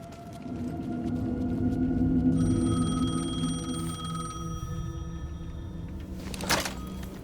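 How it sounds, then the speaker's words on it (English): A payphone rings in the Alan Wake 2 video game, a steady electronic bell tone holding under a low droning ambience, followed by a short clunk near the end. "The payphone was ringing."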